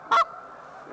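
A single short, sharp honk from a goose call imitating geese on the ground, loud and close, followed by a faint fading tail and quiet background.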